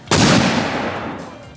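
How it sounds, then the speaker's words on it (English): A 3-inch Civil War cannon fires once at an outdoor muzzleloader demonstration, a loud close boom with a long rumbling decay. "a Civil War group that was a part of our muzzleloaders village brought in a 3-inch Civil War cannon and put on quite a demonstration"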